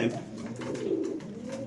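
A pigeon coos in low, soft, rolling murmurs, repeated steadily and fairly close, with some human voices mixed in.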